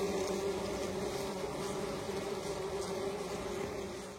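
Bees in a hive buzz loudly and close by, a dense continuous drone with a steady hum and overlapping wingbeats that fades slightly at the end.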